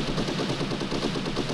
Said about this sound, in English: Okay. Gunshots.